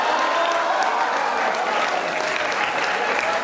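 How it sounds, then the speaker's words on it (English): Steady, close applause fills a seminar room during a motivational speech, a dense even burst of many hands clapping with no voices heard over it. "Those who are sitting in front seat, clap for yourself"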